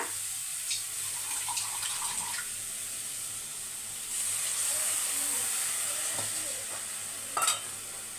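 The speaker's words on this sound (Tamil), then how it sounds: "கால் கிளாஸ் மட்டும் தண்ணி தெளித்து விட்டுக்கோங்க" Water sprinkled into a pan of roasting potatoes and lentils, followed by a steady sizzle and steam hiss that swells midway, with faint stirring scrapes and a brief louder clatter near the end.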